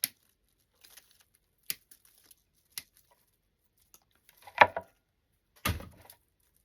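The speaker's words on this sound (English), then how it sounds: "So let's cut up some more." Scattered snips and rustles of material being cut for a candy corn centerpiece, a few light clicks early on, then two louder, fuller crinkling cuts near the end, close and alone with no talk.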